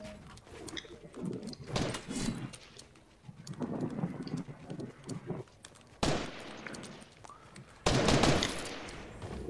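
Gunfire from a Fortnite match, with several loud bursts of shots standing out against busy game sounds and occasional cooing-like tones.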